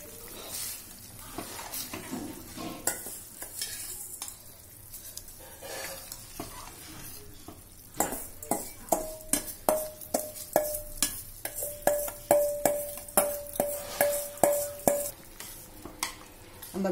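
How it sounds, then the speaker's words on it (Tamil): A spoon stirs washed varagu rice into boiling water in a cooking pot, making repeated scraping and bubbling sounds, with clinks that come faster and sharper in the second half. "மொத்தமாக போடக்கூடாது, கொஞ்சம் கொஞ்சமாக கலந்து கலந்து போடுறோம்."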